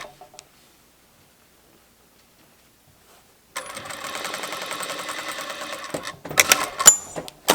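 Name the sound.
sewing machine stitching bag fabric pieces together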